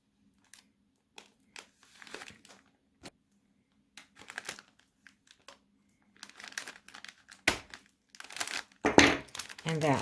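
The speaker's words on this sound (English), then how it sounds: "bring in the paper punch" A paper punch works through paper during gift-tag crafting: scattered soft clicks and rustles, then loud, crunchy snaps of the punch near the end, close and sharp against near silence.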